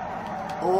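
A Honda Civic engine in Need for Speed Underground 2 revs, its whiny tone rising quickly toward the end over road noise, loud and close.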